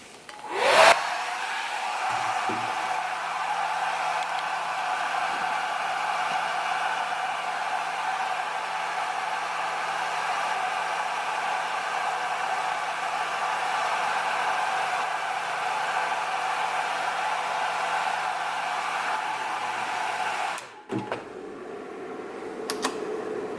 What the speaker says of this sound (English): we'll simulate that with just a lower power setting on the hair dryer again